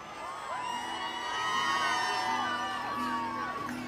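A crowd at a university musical night cheers and whoops loudly and steadily, with high excited yells and children's shouts rising over a dense wall of voices.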